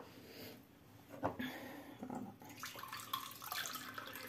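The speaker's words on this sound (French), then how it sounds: "je vais prendre le bol et je vais mettre 6 verres de lait" Milk poured into a bowl for mhalbi, a rice-flour pudding, with an uneven liquid splashing and gurgling that rises and falls over a few seconds, close by and moderately loud.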